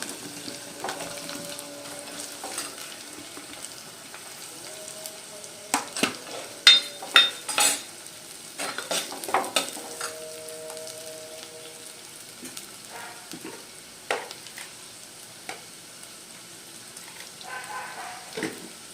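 Spring onion and onion frying in a pan for an okra, tomato and prawn dish, a soft steady sizzle with occasional clinks and scrapes of a utensil against the pan, with no talking.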